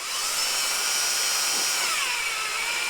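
A power drill spins a hex socket to turn the oil pump drive shaft counterclockwise in a 1990 Ford Foxbody Mustang engine. It gives a steady, high whine that holds, then dips slightly in pitch near the end.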